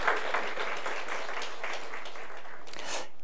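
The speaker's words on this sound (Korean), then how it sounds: "우리 엘리야들을 위해서 다시 다음에 이렇게 기도하도록 우리 박수 한번 쳐줍시다" A church congregation claps together in a brief, dense burst of applause lasting a few seconds.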